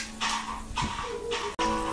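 A puppy in the Minecraft video game gives a few short, high whimpers in quick succession, clear and close, with a faint tonal game background between them.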